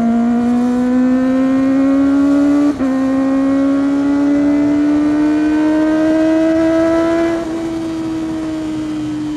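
A Kawasaki ZX25R motorcycle engine screams at high revs on a highway, a loud, steady whine that rises gradually, dips briefly at a gear change, then climbs again and eases slightly near the end.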